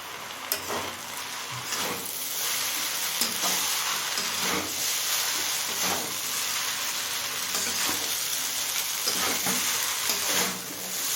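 Chow mein sizzles and hisses steadily as it is stir-fried in a hot pan with soy sauce and ground pepper, with a continuous close, loud frying crackle and periodic scraping strokes of tossing.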